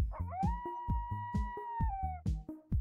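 A dog in the video game Always Sometimes Monsters gives a long, drawn-out whining howl, close and clear, over a steady rhythmic thumping beat in the game's background music.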